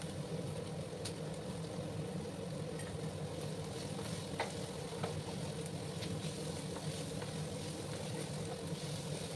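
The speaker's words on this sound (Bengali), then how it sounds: "গ্যাসের আঁচটাকে আমি হাই করে রেখেছি। একটু লাল করে আমি পেঁয়াজগুলোকে ভেজে নেবো।" Onions fry over a high gas flame, giving a faint, even sizzle with light stirring scrapes and occasional small clicks throughout.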